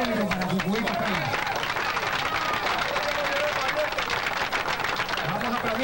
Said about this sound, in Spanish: El aplauso del público para Jujuy Capellas